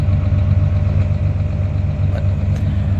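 A farm tractor engine runs steadily while hauling manure in cold weather, a close, loud, continuous low idle-like drone with a faint knocking rhythm and no talk.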